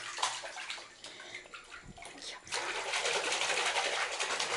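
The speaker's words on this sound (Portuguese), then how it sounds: "Bate na água." Baby splashing water in a home bathtub: irregular slaps and swishes of water close by, with an adult voice talking softly over them.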